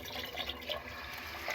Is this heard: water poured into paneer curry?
yes